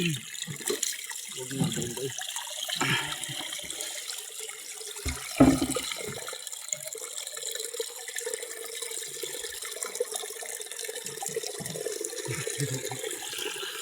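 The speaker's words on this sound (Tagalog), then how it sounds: "Dito kami kumukuha ng tubig." Water drawn from an outdoor water source runs and splashes in a continuous trickling stream, with irregular louder splashes, while people talk nearby.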